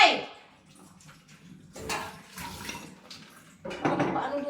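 Water runs from a household tap at low pressure, a soft steady splash with faint clatter, interrupted by brief voices talking nearby.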